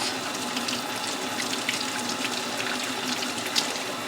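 Hot tap water runs steadily into a sink while potatoes are rinsed, a constant close splashing stream with occasional small clinks and splashes, and no talking.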